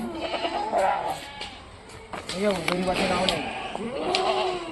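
Goats bleat in wavering, nasal cries, several calls rising and falling close by while people talk over them.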